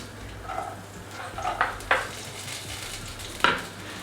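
Thick-cut onions frying in a pan for capsicum masala, a low sizzle under a few sharp metallic clinks and scrapes from stirring, moderately close.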